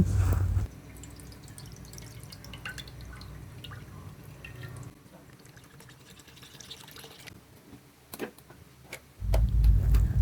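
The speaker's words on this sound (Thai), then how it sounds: "ขั้นตอนต่อไปก็ตั้งกระทะให้ร้อนนะคะ ใส่กะทิลงไปค่ะ" About 500 ml of coconut milk poured into a hot pan for Thai crab curry sauce makes a steady trickling, dripping flow. Louder low rumbles come at the start and the end.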